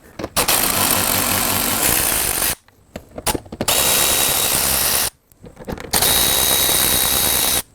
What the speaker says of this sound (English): we're going to remove these 3 screws, like at here, here, and here, using a size